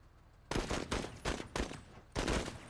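Gunfire on a rifle range in the MENACE video game: four loud bursts of shots, each lasting a few tenths of a second, separated by brief gaps, heard alone against a quiet background.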